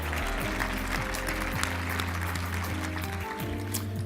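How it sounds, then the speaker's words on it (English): Audience applause at the 2014 Colorado Health Symposium plenary session: steady, dense clapping from a large crowd, sustained for about four seconds over a low tonal background. "Please give yourself an applause."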